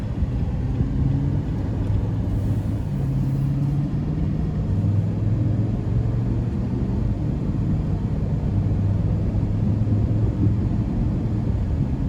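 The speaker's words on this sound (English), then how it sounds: "we're gonna go ahead and take this Titan SV out on the road for a quick test drive" A 2021 Nissan Titan SV pickup with a V8 drives on the road, heard from inside as a steady, loud low rumble of engine and road noise with slowly shifting tones and no talk.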